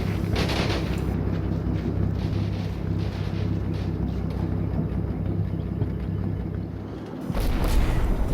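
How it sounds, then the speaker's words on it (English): Artillery and mortar barrages trade fire in the Combat Mission wargame's Italy 1943 battle, a steady low rumble of distant explosions and wind-like roar that runs on continuously, with a heavier blast near the end. "We start swapping artillery and mortar barrages."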